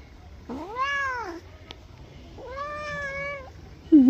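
A cat meows twice, drawn-out clear calls with a pause between, then starts a third, close and distinct against a quiet background.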